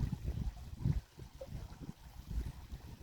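Water rushes and gurgles steadily out through a pulled plug as a garden pond drains, a close, continuous low churning flow with no voices.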